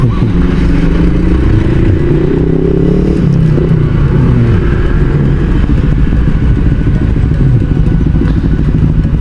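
Continuous rumble of motorcycle and car engines in traffic on EDSA, heard from an e-bike, loud and steady throughout, with engine revving rising and falling close by.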